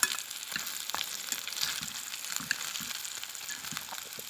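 Pork fat and onion fry in a pan, some of it starting to burn, with a steady close sizzle and occasional stirring clicks and scrapes.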